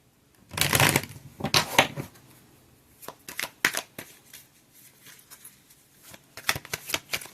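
Oracle cards shuffled by hand for a tarot reading: two loud bursts of riffling near the start, then shorter, softer flicks and taps scattered through the rest, close up with no voices.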